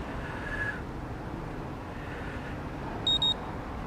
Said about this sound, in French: J'ai entendu les deux bips consécutifs